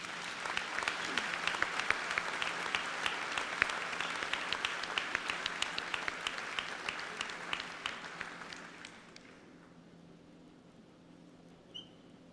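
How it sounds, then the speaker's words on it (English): A school crowd applauds students at a senior awards assembly with steady, sustained clapping that fades out near the end, leaving near-silence. "Please give these students a nice round of applause."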